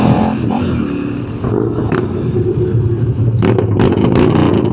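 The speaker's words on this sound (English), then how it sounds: "What are you revving your motor for?" A Harley motorcycle engine revs in traffic during lane splitting in Southern California, a loud, close, rumbling roar with repeated throttle bursts over the low idle of other engines.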